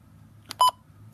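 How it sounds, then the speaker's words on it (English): Two short electronic beeps from a button press on a Midland WR-120EZ weather alert radio, close and clear over a faint low hum, with quiet room tone between and after. "I'm going to hit this menu button, and what it's going to do is bring up a menu of settings"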